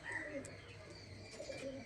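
Pigeons of a fancy breed coo softly in a coop, low murmuring coos with a few higher chirps, faint and close against quiet background noise.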